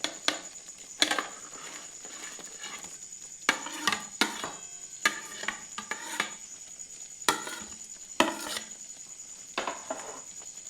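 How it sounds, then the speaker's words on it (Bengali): Fried paneer pieces drop into a pan of sizzling spice masala and are mixed, giving a string of sharp clinks and scrapes over a steady hiss. "মশলার থেকে এরকম তেল বেরিয়ে এলে এরপর দিয়ে দিচ্ছি ভেজে রাখা পনিরটি।"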